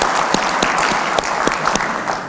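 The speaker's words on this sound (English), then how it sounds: "That's worth an applause." A crowd claps at a port authority's annual state-of-the-port address, the dense applause marked by several sharper individual claps and sustained at a fairly loud, even level throughout.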